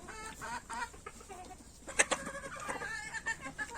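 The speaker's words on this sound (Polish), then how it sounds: "Kurki jak przyjechały, pod rękę podchodziły, a teraz się boją, jakbym im krzywdę robił" Hens in an outdoor run cluck and squawk in short, uneven bursts, with several birds calling close by and one sharper cry partway through.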